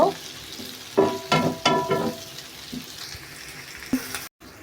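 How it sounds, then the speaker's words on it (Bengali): Capsicum and tomato frying in a pan with green chilli and onion, a soft background sizzle broken by several sharp, close stirring clinks and scrapes of a utensil against the pan. "এখন আমি ক্যাপসিকাম আর টমেটো দিয়ে দিয়েছি এটা একটু হালকা করে লাল করে ভেজে নিব"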